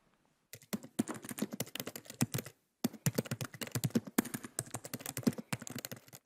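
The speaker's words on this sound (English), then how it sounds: "How about a computer keyboard?" Someone types on a computer keyboard, close up and lively. Quick bursts of clicking keystrokes with uneven timing are broken by a couple of short pauses.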